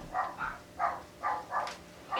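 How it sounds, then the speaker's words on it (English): Dogs bark indoors at moderate distance, six rounded, muffled barks in an even rhythm across a couple of seconds. "They have been barking a lot."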